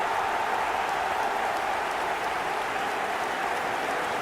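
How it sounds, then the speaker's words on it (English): Steady, dense applause from a stadium crowd in an eFootball video game, saluting a goal, sustained at an even level without a break. "Even some of the opposing fans are clapping that."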